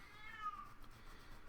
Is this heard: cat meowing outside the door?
yes